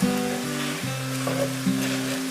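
A carrot, tofu and egg pancake sizzles in a pan as it finishes cooking, a steady close crackle of frying running under tonal background music.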